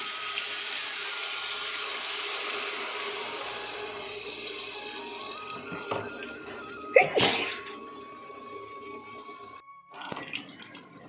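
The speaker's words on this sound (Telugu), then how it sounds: "ఇప్పుడు మనం కావాల్సినంత వాటర్ కూడా పోసేసుకుందాం" Water pours steadily into a cooking pot of tamarind-pulp stew with curry leaves, a continuous rushing hiss for about seven seconds that then cuts off, followed by a brief clatter and quieter kitchen noise.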